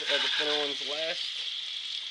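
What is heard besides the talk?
turkey meatballs sizzling in hot pan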